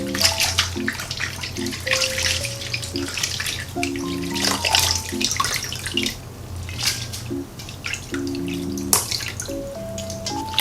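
Salted seaweed stems, 300 g, rinsed under running tap water in a sink, a steady splashing and dripping wash with bursts of squishing as the stems are handled, close and continuous, with background music playing throughout.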